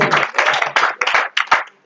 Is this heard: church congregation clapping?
yes